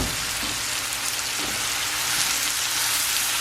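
Shrimp and smoked sausage sizzle steadily in a hot pan, a dense, even crackle of frying that fills the whole stretch without pause or voices.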